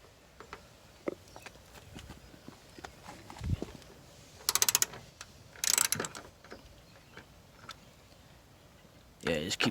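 A ratchet cranks in a Miata door hinge bushing, giving scattered ticking clicks and a few louder bursts of grinding turns, with quiet workshop handling between them.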